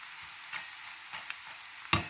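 Quiet, steady frying sizzle from cassava chips in oil, with a few soft stirring scrapes and a sharper clack near the end.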